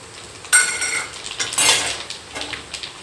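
Coriander, fennel and cumin seeds hit hot oil in a pan for a dry namkeen snack, giving short crackles and sizzling bursts mixed with the clink of a metal spoon against the pan.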